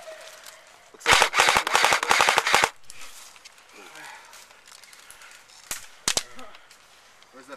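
Rapid bursts of airsoft gunfire crackle up close for about a second and a half during an outdoor skirmish, followed by a few scattered single shots, with players talking and moving between the volleys.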